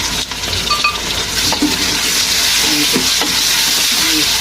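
Spices (salt, red chilli, turmeric and plenty of black pepper) fry in a pan for dhaba-style daal mash, a steady loud sizzle with stirring scrapes and occasional metallic clinks of the spoon, no voices.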